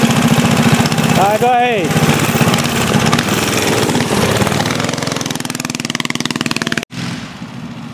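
Mini bikes and dirt bikes racing, buzzing small engines droning loud and close with revving pitch changes throughout, while a person speaks briefly over the noise.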